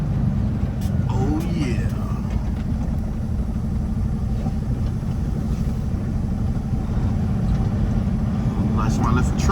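A truck engine rumbles steadily as the vehicle pulls into a truck stop to park. The low drone runs under brief talk.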